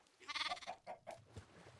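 Minecraft sheep bleating several times in quick succession, short wavering nasal calls, fairly close and moderately loud with no talk over them.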